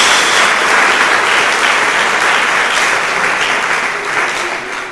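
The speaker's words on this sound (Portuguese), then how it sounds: "Uma salva de palmas ao Senhor." A church congregation applauds, dense sustained clapping that fills the space evenly and loud throughout, fading slightly toward the end.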